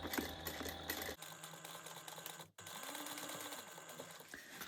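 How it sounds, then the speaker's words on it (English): Sewing machine stitching a fabric bag seam at a 1/8 inch allowance, a steady, fairly loud mechanical whir running almost the whole time with a short break partway through. "we're going to stitch this at a 1/8 inch seam allowance"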